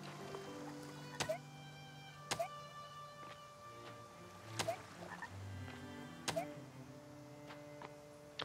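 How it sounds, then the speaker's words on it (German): Frogs croak in the video game Fae Farm: repeated sharp clicking croaks at roughly one-second intervals over a soft, steady outdoor ambience, fairly faint and with no talking. "Ich höre einen Frosch."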